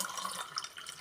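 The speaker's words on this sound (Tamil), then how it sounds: "இப்போ இந்த ஜூஸை அதில் ஊற்றிக்கிட்டேன்." Watermelon juice pours over ice cubes in a glass, a steady close splashing liquid stream lasting about a second with no talk.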